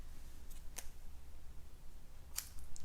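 Scissors trim the edge of a paper card, giving two crisp snips about a second and a half apart, close but faint over a quiet room hum.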